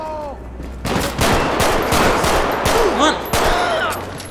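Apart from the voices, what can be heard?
gunfire in GTA 5 video game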